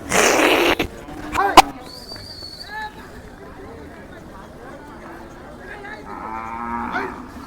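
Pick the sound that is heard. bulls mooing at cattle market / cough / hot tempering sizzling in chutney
bulls mooing at cattle market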